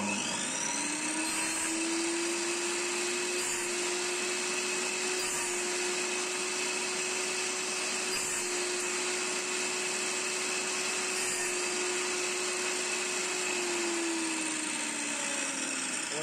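A table saw cuts wood held against a stop block. Its loud, steady motor whine and blade roar hold for about fourteen seconds before the pitch drops as the blade winds down.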